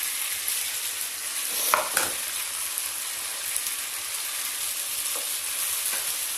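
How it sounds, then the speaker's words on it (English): Potatoes and raw banana are stirred into sizzling masala in a pan for a Bengali rohu fish curry, giving a steady frying hiss with a few louder scraping stirs, close and with no talk. "Now I'm going to add the potatoes and the raw banana, which I've cut it already, inside this."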